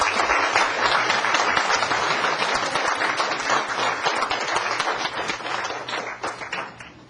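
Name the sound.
audience applause welcoming lecturer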